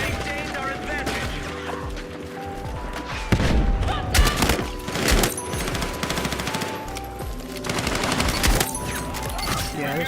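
Shotgun fire in a multiplayer shooter video game, sounding as heavy repeated blasts and bursts of gunfire over a dense battle soundscape with music, thumps and crashes, loud and close throughout.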